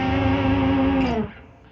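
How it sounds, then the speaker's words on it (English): A distorted electric guitar chord sustains loudly with a slight bluesy vibrato, then is cut off abruptly near the end, leaving only faint hiss. "If you want to throw in a little bit of vibrato"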